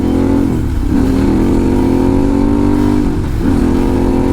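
A Harley-Davidson motorcycle engine fitted with a new exhaust pipe revs loud and close, its deep throaty drone dipping and climbing twice as the throttle is worked.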